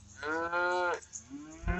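Cows out in a pasture during a downpour give two drawn-out, loud moos, the second rising briefly, with a short lower call trailing after.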